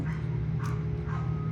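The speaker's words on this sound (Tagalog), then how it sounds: "Naawa ko sa aso ng kapitbahay namin." A dog gives a few short whimpers and yips over a loud, steady low hum.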